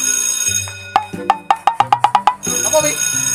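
A telephone rings in a rapid burst of eight or so sharp electronic chirps, loud and close, with music and voices in the background before and after the rings.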